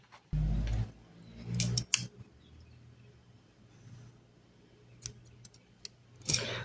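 Scissors cut a short length of yarn during a crochet project. Two or three sharp close snips stand out from a quiet room with a faint low hum.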